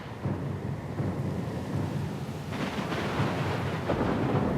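A thunderstorm at sea in Pillars of Eternity 2 rumbles on with heavy rain and rolling thunder, the roar swelling midway and staying dense and steady, with no voices heard.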